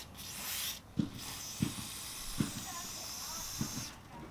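Chain lube is sprayed onto the chain of a Yamaha FZ-07 motorcycle as the tire turns, giving a steady close hiss broken by several short, sharper bursts.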